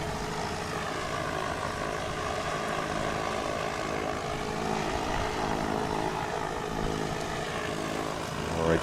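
A STOL propeller airplane flying at a landing competition in St. Joseph, Missouri, its engine and propeller producing a steady, loud, continuous droning roar with no talk heard.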